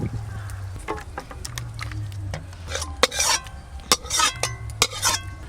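Gangthora fish curry poured out of a cooking pan in a home kitchen, giving a run of clattering metal scrapes and knocks from pan and utensil over a low steady hum, moderately loud and close.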